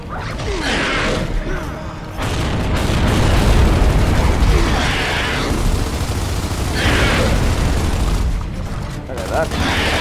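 Grenade blast in the Gears of War 2 video game, a loud roaring burst of explosive noise with further booms and rumbling surges that stay strong and continuous for the whole stretch.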